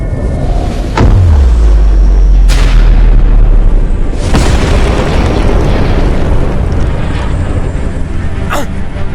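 Artillery fire and heavy explosions in a Solo Leveling anime battle against giants, several deep booming blasts with rumbling low tails, spaced a second or two apart, loud and close.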